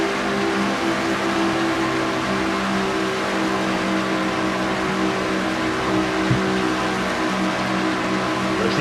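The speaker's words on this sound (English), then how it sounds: "there you're on board with Seth Cole in car number 6" Onboard engine of stock race car number 6 during a racing series event on a track, a loud, continuous droning roar that holds steady throughout as other cars race around it.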